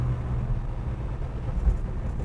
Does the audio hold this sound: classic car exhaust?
yes